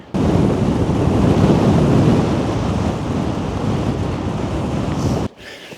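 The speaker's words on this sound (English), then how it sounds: "it's incredibly windy" Strong wind sweeps across open sand dunes, a loud continuous roar battering the microphone for several seconds before cutting off abruptly near the end.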